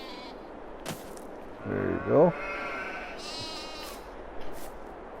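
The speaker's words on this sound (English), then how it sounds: "And then we got the old Welsh black sheep." Welsh Black sheep in Farming Simulator 22 give a loud, wavering bleat at mid-range, with someone speaking briefly over a quiet farm background.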